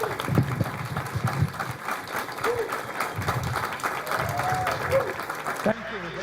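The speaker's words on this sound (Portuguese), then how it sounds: "para quem eu solicito uma grande salva de palmas" An audience claps for a lecturer at a university course lecture, sustained applause from a seated crowd that holds steady and cuts off abruptly near the end, with a voice speaking over part of it.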